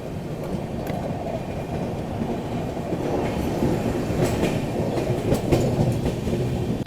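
Antyodaya Express on the Panvel–Gorakhpur route rolls slowly along the rails between Kanpur and Lucknow, giving a steady, close rumbling drone of wheels and carriages with faint rhythmic clatter and occasional higher metallic squeaks.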